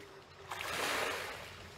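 Sea waves at Itoshima on the Japanese coast, slightly rougher than usual, wash in as a broad hissing swell that builds from a quiet start and slowly fades, steady and fairly distant with no talk.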